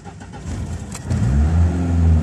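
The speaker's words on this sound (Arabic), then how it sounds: "هاي دابا مكسيري" A carburetor car with a fault, set up to run on both gas and petrol, idles roughly and then revs up louder and holds the higher revs, its engine note rising close by.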